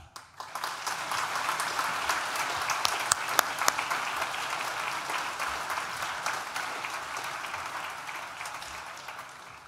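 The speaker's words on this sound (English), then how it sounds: "Graduands, please join me in a round of applause in remembering those who've helped you along the way." A large audience of graduands and guests at a Nottingham Law School graduation ceremony applauds in sustained, even clapping that swells and then gradually fades, with no speech over it.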